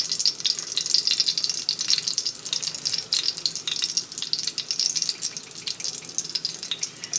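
Breadfruit balls stuffed with saltfish fry in hot olive oil, a continuous bright crackling sizzle with scattered pops, fairly faint and steady throughout, with no talk.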